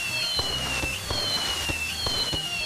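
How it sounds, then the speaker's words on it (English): Victory fireworks in a video game: a string of crackling bursts and pops at a fairly steady rhythm, soft and unaccompanied by talk. "Fireworks of victory."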